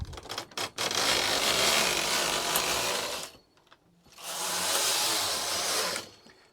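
Knitting machine carriage making two passes during cut-and-sew neckline shaping, each pass a loud, close rushing slide lasting a few seconds, with a quiet pause and a few clacks between them.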